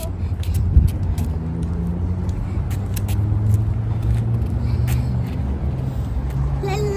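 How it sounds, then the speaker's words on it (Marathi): A car approaches along a road with a steady, close engine and tyre rumble that holds throughout, while a voice talks over it. "गाडी येते बाळा मागे हो"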